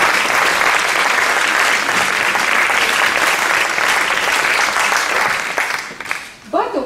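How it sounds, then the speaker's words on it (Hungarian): An audience at a Bartók memorial concert gives a teacher a loud, sustained round of applause, dense continuous clapping close by that thins out and tapers near the end. "Őt is tapsolhassuk meg."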